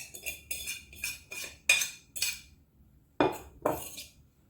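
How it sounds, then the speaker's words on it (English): Breadcrumb and cheese leftovers scraped from a dish with a utensil, a series of about eight short, clinking scrapes at a steady pace, close and fairly clear, with a brief pause before the last two stronger strokes. "I'm going to scrape whatever's left from the breadcrumb and cheese."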